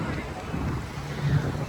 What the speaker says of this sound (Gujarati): એટલે એટલો પવન છે